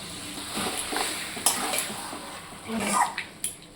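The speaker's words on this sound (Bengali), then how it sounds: "মশলাটা কষানো হয়ে গেছে এখন মাংসটা দিয়ে দেবো" Meat frying in a pan of cooked-down spice masala for a Bengali New Year meal, a steady close sizzle broken by several sharp scrapes and clinks of a spoon stirring against the pan.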